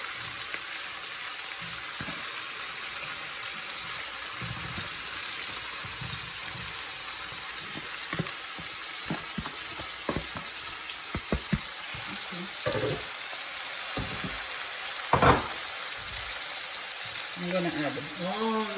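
Cabbage and sausage cooking in a pan, a steady soft sizzle and hiss with scattered light clicks and one louder clatter, fairly close, with a voice briefly near the end.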